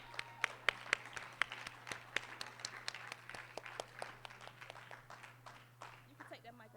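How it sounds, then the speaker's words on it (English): Scattered, faint applause from a small crowd at an autism awareness rally greeting a young rapper coming up to perform, with irregular claps under a steady low hum and some voices. "Give him a round of applause,"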